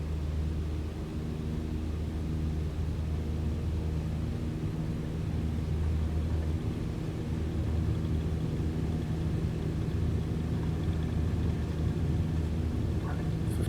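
Light airplane engine at full throttle on the takeoff roll, heard as a steady, droning rumble with low harmonic hum and broadband wind noise throughout, constant in level and without speech.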